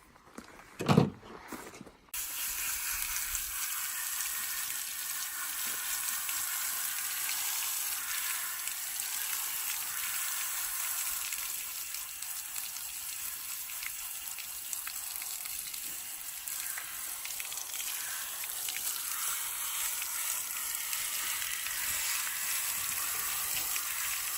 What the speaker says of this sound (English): so we are going to go ahead and rinse the legs